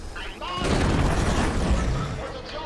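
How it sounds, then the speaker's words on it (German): A blue container blows up in the video game Killzone Shadow Fall, a sudden heavy boom after a brief quiet start that rolls into a long rumbling, crackling decay. "wenn so ein blauer Container hochgeht, dann knallt's einmal"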